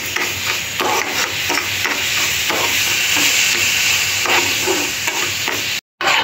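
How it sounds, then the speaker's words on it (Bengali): Sugar with a splash of water melting and caramelizing in a pan, a steady close sizzle and hiss with occasional stirring scrapes, no talking. "এক কাপ চিনি দিয়ে দিলাম, চিনির মধ্যে দু চামচ জল দিয়ে দেব, দিয়ে চিনিটাকে একটু গলিয়ে নেব।"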